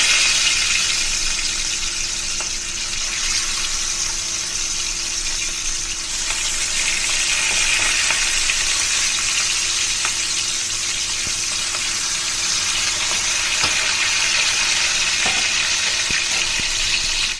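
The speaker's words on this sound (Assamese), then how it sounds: "এতিয়া মাছখিনি ফ্ৰাই কৰি লওঁ।" Borali fish frying in oil in a kadai for Assamese fish curry produces a loud, continuous sizzle with faint crackles throughout, steady and close, with no voices.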